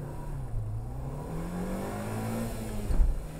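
A race start for front-wheel-drive cars, a Civic Type R FD2, a Megane R26R and a Works Mini Cooper, with several engines revving and accelerating at once, a rising note that swells near the end.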